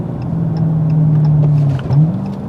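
A car engine blips its revs during a rev-matched downshift from third to second gear, a steady loud drone with a quick rise in pitch near the end.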